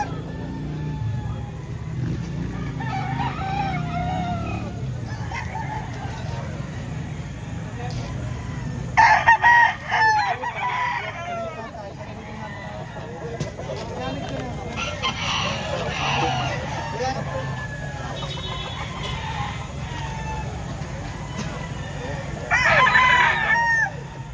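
Chickens and roosters at a poultry market in Lipa, Batangas, with repeated crowing and clucking over a steady crowd murmur, several louder crows bursting out near the middle and end, and voices talking in the background.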